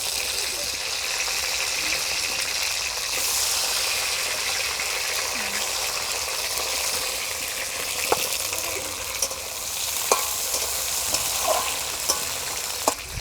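Two large chopped tomatoes fry in a pan, a constant loud sizzle with a few sharp spatula knocks and stirring scrapes in the second half, with a voice faintly underneath.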